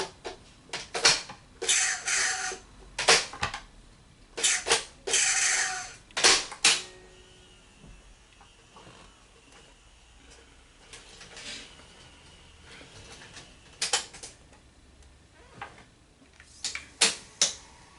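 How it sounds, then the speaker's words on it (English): A Sony SLO-325 Betamax VCR threading a freshly inserted cassette: bursts of mechanical clicking and whirring, then quieter motor hum and a few later clicks, close up with no talking. "Let's go ahead and put a cassette in, because I want to see if it'll thread."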